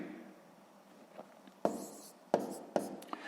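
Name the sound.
writing numbers by hand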